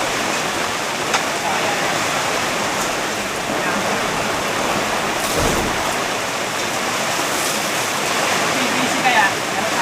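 Rainwater collected on a tent tarp pours and splashes steadily in a continuous rushing hiss, close and fairly loud, with brief voices faintly beneath.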